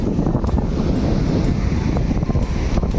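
Sea waves wash and surge onto a beach in a constant loud rush, mixed with buffeting wind against the microphone.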